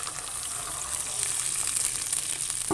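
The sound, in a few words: milk being poured into sauce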